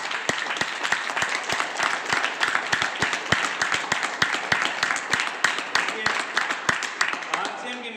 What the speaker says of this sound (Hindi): तालियां आरसीएम वाली से